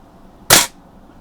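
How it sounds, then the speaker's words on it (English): A single sharp crack from a Daisy 120 pellet rifle fired at a target, close and loud, with a short fading tail against quiet background. "let's go ahead and shoot that second witch there"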